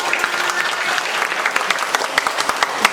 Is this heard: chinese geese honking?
no